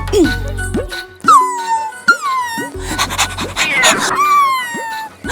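A woman imitates a panting dog with quick rhythmic breathy huffs and whimper-like vocal yelps, close and loud, repeated in bursts across several seconds alongside some talking.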